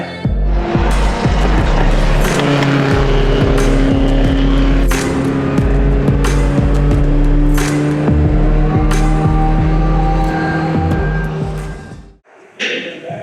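A Youth Roadrunner race car engine roars loudly and steadily at close range, with repeated rapid gear-shift revs and whining pitch climbs, then cuts out abruptly near the end before a brief return.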